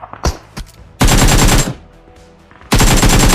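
Gunfire from a bot in the mobile game PUBG Mobile: a few sharp single shots, then two loud sustained automatic bursts separated by a brief lull.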